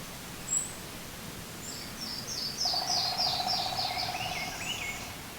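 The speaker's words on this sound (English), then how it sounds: "I can hear the woodpecker down in the forest." A woodpecker's rapid drumming rattles from a distance through quiet, green forest ambience in Congaree National Park, preceded by a single brief chirp.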